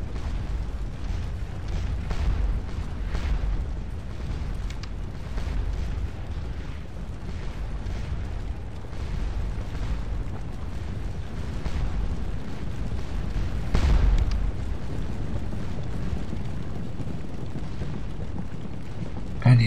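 Artillery fire rumbles continuously across a Napoleonic Waterloo battlefield in the game Scourge of War Waterloo, a dense low roll of distant cannon booms with no clear pauses.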